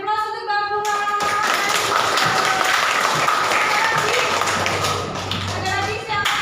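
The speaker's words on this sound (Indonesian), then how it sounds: "Oke, beri aplaus untuk Bang Bunga." A classroom audience in a school guidance counseling session bursts into loud, sustained clapping that fills the whole stretch, with voices mixed in among the applause.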